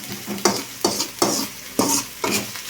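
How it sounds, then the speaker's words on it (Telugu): Onions frying for curry are stirred in a pan, giving five or six rhythmic scraping sizzles at an even pace, close and moderately loud with no talking. "ఆనియన్స్ కలర్ వచ్చిన దాకా వేయించుకోవాలండి."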